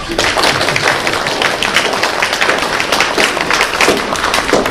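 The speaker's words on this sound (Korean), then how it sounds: "네, 우리 박수 한번 쳐주십시오." Church congregation clapping for the worship band, a dense, even patter of many hands continuing steadily from start to finish.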